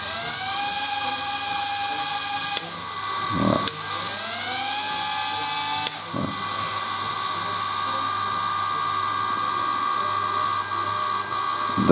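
Small drone motors spin at idle through a Flysky FS-i6 transmitter, a loud, steady high-pitched whine with tones that briefly sweep as the throttle shifts, under a short spoken word.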